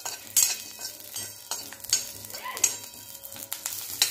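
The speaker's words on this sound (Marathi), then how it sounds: "आणि हे मिरच्या भाजून घेऊया।" Green chillies, with a few garlic cloves, roasting in a steel kadai with a couple of drops of oil, producing a continuous crackling sizzle broken by frequent clinks and scrapes of a spoon stirring against the metal.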